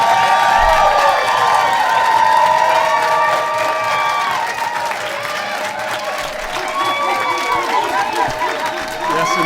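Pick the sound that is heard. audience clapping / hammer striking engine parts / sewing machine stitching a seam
audience clapping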